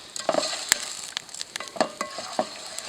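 Pearl couscous toasts in a pan at a backcountry canoe campsite, with a light sizzle under a series of sharp spoon clinks and scrapes as it is stirred, close and without voices.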